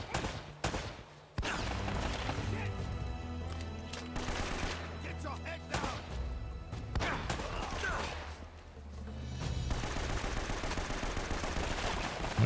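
Repeated gunfire bursts and rapid automatic shots from a shootout in the video game Uncharted: Drake's Fortune, loud and dense, with booming impacts layered over a steady low game soundtrack and a voice speaking partway through.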